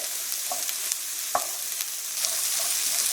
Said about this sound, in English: I really like to saute the vegetables first so that they get that really delicious flavor